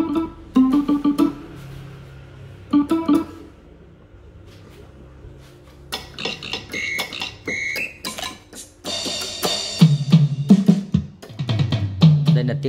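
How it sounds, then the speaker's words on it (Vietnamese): On a Casio CTK-4000 electronic keyboard, drum and gong voices give scattered synthetic percussion hits, sparse at first and then a busier burst of strikes and ringing tones. "tiếng trống, tiếng chiêng"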